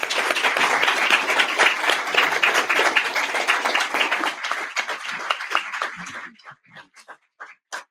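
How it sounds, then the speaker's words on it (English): An audience applauds panelists at an AUSA Hot Topic 2025 holistic health panel: dense, steady clapping fills the room for about six seconds, then thins to a few scattered last claps. "will you please join me in giving our panelists applause?"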